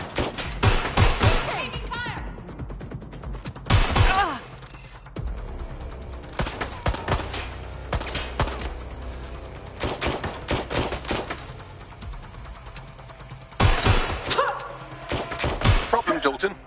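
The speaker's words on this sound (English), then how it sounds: "Taking fire!" Heavy gunfire in the game Watch Dogs: Legion, repeated loud bursts of automatic fire and shots coming in clusters across the clip, with some talk between them.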